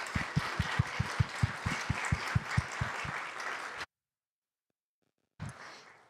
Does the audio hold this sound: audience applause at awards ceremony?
yes